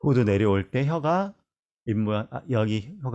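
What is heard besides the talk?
No everyday noises stand out.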